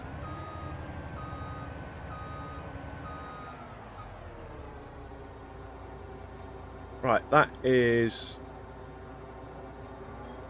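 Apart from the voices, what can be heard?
truck in Farming Simulator 25 video game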